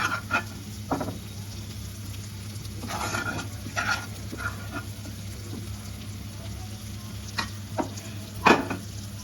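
Mutton kheema stir-fries in a pan with a steady soft sizzle, broken by occasional scrapes and clinks of a spatula stirring, close by and moderately quiet, with no voices.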